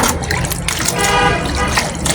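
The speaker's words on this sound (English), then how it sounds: "pour it inside the bucket" About six liters of boiled hot water poured into a bucket for a homemade hair conditioner, a continuous close, splashing gush for the whole moment.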